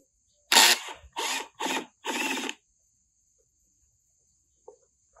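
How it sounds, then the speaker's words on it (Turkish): An electric drill running in reverse whirs in four short bursts of varying length while backing out the screw on a motorcycle hydraulic brake fluid reservoir, close and loud, followed by near silence. "matkabın ucunu ters çevirip vidamızı çıkarabiliriz"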